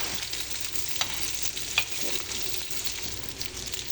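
Eggplant slices frying in hot oil give a steady, close sizzle with a few sharp pops and spatters. No one speaks.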